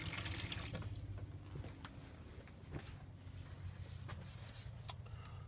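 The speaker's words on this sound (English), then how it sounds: "when you go to your taps you should get the water supply coming through quite quickly" Water runs steadily from a tap in a Lifestyle 644 caravan, a continuous rushing splash with a few small knocks and clunks, fairly close and without voices.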